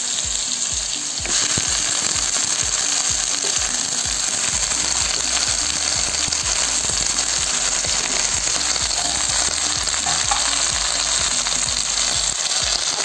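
Malabar spinach (pui shak) fries in a pan with a loud, steady, close sizzle that runs throughout, overlaid with faint clattering from the pan.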